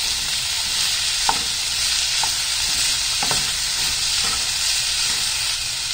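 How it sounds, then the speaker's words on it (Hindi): Zucchini seasoned with salt and black pepper powder sizzles steadily in a hot pan, with a spatula scraping and stirring through it at irregular intervals, close and continuous without any talking. "थोड़ा सा मैं इसमें ब्लैक पेपर पाउडर डालूंगी। और इसको मिक्स कर दूंगी।"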